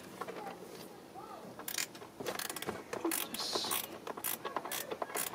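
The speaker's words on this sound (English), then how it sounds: "loosen it." Ratchet wrench loosening a bolt on a 2015 Jeep Cherokee engine: several bursts of quick clicking at close range, faint at first and then louder, with a brief spoken word near the start.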